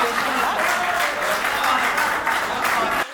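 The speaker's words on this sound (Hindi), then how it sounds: "भाई साहब क्या ताली बजा रहे" Audience applause fills a live poetry recitation hall, dense and steady throughout with a crowd murmur mixed in, then cutting off abruptly at the end.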